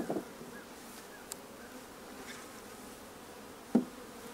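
Honeybees around an open backyard hive give a faint, steady buzzing hum with a couple of brief soft knocks, likely from the hive being opened.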